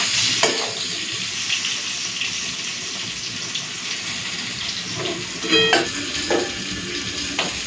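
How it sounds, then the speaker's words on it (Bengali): Pointed gourd fries in a pan, giving a steady close sizzle throughout, with occasional clinks and scraping knocks of a utensil, a few clustered near the end. "একটু ঢাকা দিয়ে দিয়ে পটোটাকেও ভেজে নিই"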